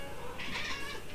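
A house cat gives a single short meow, close and fairly soft, with a quiet indoor background and no talking.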